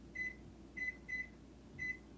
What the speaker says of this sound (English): I just put the timer at 777.